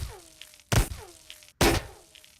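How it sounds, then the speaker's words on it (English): Two loud, booming explosive blasts come about a second apart, close and forceful. Faint whistling, descending tones fill the gaps, and no one speaks. "There's an explosion going on now."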